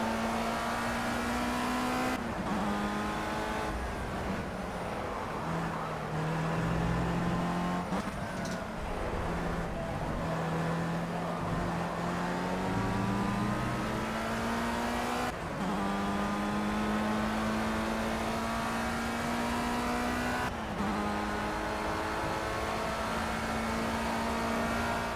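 A Formula Rookie race car engine in Project CARS, loud and continuous, revving up through the gears with sharp pitch drops at each shift and a steady high whine.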